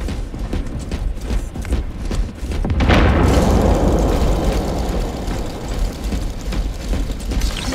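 A krak grenade detonates in Warhammer Space Marine 2, one heavy booming blast that swells partway through and leaves a long rumbling wash over continuous battle noise.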